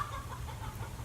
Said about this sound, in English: My chicken's really having a good time clucking out there.